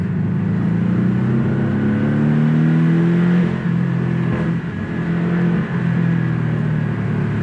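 A Porsche 718 Boxster S engine in sport response mode hums loud and close, revving with rising and falling pitch in a sustained drone while driving, with no voices over it.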